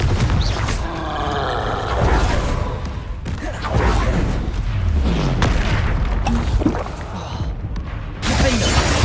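In the Hogwarts Legacy video game, Confringo blasting spells set off loud, booming explosions with whooshing rumbles, one burst after another over a dense bed of battle noise.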